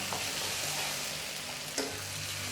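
Coconut chutney ingredients sauté in a pan on a stove, giving a soft, steady sizzle with a quick scrape of stirring near the end, with no talking.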